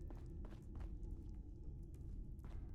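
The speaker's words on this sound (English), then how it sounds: "I could hear dog footsteps" Faint paw footsteps of a dog companion in Fallout 4, a few soft, irregular taps over a low rumbling game ambience.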